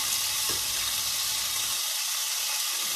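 Bacon and ham fry in a pan, giving a continuous close sizzle and hiss for a few seconds with no talk over it.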